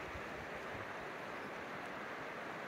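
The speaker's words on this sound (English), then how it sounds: "and enjoy the sounds of the water." Continuous rushing of a flowing stream in Jasper National Park, Canada, near Maligne Canyon, a steady broadband wash without pauses, fairly soft and enveloping.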